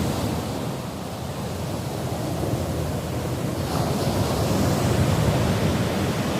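Sea waves pound the coast at Kallam Valappu, Chembirikka during severe sea erosion, a continuous loud roar of surf that swells slightly stronger toward the end, with no voices.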